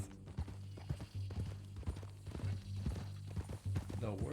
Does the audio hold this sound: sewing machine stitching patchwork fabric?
no